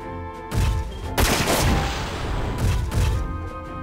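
In the PS2 game Front Mission 4, bazooka blasts and gunfire sound over a held synth tone. Heavy booms land about three times within a few seconds, each followed by a rumbling burst of firing.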